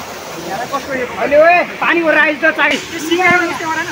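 Water runs along a river stream in a natural, noisy setting, a steady wash sitting under people talking loudly and continuously nearby.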